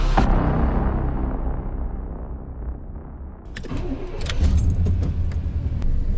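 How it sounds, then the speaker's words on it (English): A car with weak brakes pulls away, its engine rumbling steadily through the clip, with a clunk partway in and rattling, jangling knocks as it moves off. "We're gonna go for a little bit of a drive"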